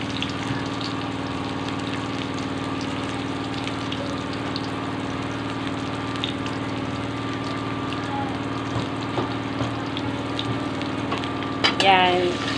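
Onion and garlic frying in a pan, a steady low sizzle running throughout with faint stirring clatter near the end, no talk over it.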